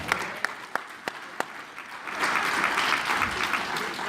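Applause rises from an audience at a women's steppers weekend grand finale. A few sharp, separate claps come first, then the clapping swells into a full, steady round.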